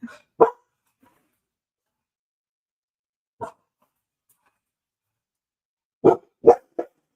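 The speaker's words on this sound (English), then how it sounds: "I don't know what we're barking at, but we're both barking" Two dogs barking indoors, short sharp barks in scattered bursts: one at the start, a lone bark mid-way, then a quick cluster of three near the end, with silence between.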